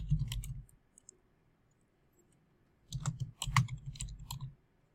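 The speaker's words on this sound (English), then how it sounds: "I'm just going to click right here and just type" Mouse clicks and computer keyboard typing, a few close clicks at the start, a quiet gap, then a quick burst of keystrokes lasting about two seconds.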